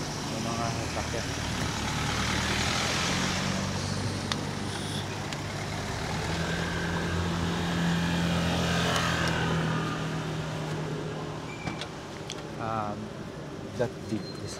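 Street traffic in Tirana, Albania rumbles past as cars and trucks go by, with engine drone and passing swells, a hiss like an air brake, and people talking close by throughout.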